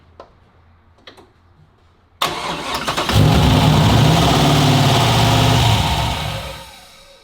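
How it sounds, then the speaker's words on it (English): A Nissan 240SX cranks with a few faint ticks, then fires up loudly and close. Light throttle blips push the engine into a rough, rising rev that holds steady before easing off. "I'll give it some throttle. Light modulation."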